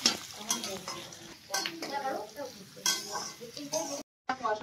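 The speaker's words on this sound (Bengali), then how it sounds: "একদিকে আমি এটা কষতে দিয়ে দিলাম, ভাজতে পেঁয়াজটা" Chopped onions fry in a pan with a soft, crackling sizzle while a utensil scrapes and stirs them in uneven strokes, fairly quiet and close, with a brief dropout near the end.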